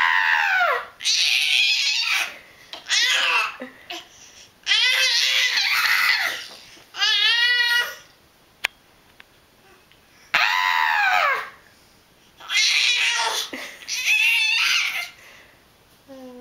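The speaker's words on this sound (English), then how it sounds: "We can scream." A baby screams loudly in about seven long, high-pitched bursts. Each cry rises and wavers, with short silent pauses between them, close to the microphone.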